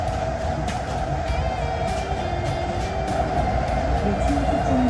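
Steady rumble and hiss of the Hong Kong Airport Express train riding from the airport into the city, a continuous loud interior drone with faint rail clicks and no talk.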